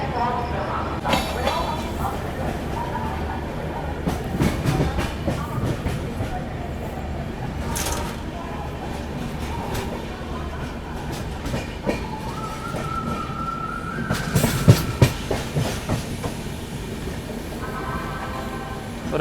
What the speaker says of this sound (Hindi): बस अपनी ट्रेन अभी निकल रही है